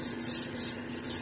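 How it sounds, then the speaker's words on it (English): Airbrush spraying paint onto a quarter-scale Hellboy figure, a steady close hiss that pulses in short bursts as the trigger is worked, with a faint low hum beneath. "as long as you keep the airbrush moving"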